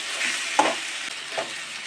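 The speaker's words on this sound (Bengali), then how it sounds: "এটা একটু ভাজা ভাজা হবে" Elephant foot yam stalks frying with shrimp in a pan, a continuous sizzle broken by two brief spoon scrapes, close and alone.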